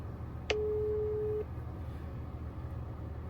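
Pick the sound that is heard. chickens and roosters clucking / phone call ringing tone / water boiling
phone call ringing tone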